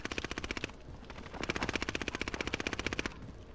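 Rapid automatic gunfire in Call of Duty: Modern Warfare, loud, close bursts of sharp shots in a fast even rhythm, with a short pause between them, and no talking.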